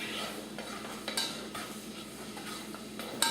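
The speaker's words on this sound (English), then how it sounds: "I'm going to stir this until the sofrito and the olives kind of get a little bit fried in there" Sofrito and olives for Spanish-style beans fry gently in a pot while a spoon stirs, giving quiet, rhythmic scrapes and occasional light metal taps over a faint sizzle.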